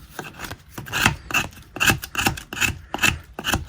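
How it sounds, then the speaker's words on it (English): A chisel worked slowly by hand scrapes wood on a tree stump, giving repeated rasping strokes about two or three per second at close range, steady and rhythmic, with no talking. "I'm kind of having to do it by hand and just get the chisel"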